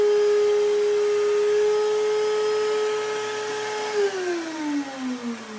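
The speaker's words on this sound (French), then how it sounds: "Alors comme vous pouvez remarquer, il y a l'aspirateur." A vacuum cleaner runs loudly with a steady motor whine that drops in pitch and wavers near the end, as if the motor slows.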